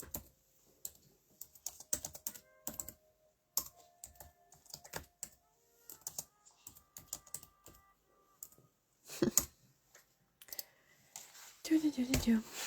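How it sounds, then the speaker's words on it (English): Keys clacking on a computer keyboard during a live drawing stream, coming in quick irregular bursts at low level, with some quiet talk and rustling between them. "I need the keyboard for a second."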